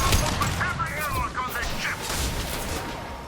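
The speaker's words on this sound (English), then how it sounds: "Wait, why am I shooting the prisoners?" Mass Effect 2 combat plays out as a steady rattle of gunfire and impacts behind someone talking over the action.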